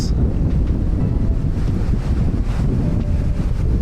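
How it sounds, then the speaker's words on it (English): Ocean waves washing into a bay along the Santa Cruz coast, mixed with steady wind buffeting the microphone; a continuous broad rumble and hiss with no voices. "It's the ocean."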